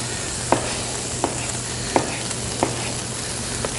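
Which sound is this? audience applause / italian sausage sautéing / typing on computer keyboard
italian sausage sautéing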